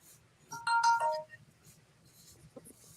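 A mobile phone rings with a short melodic ringtone, one bright burst of tones at moderate distance, followed by faint background noise and a light knock.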